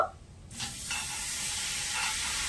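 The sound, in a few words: mango pieces with sugar sizzling in a wok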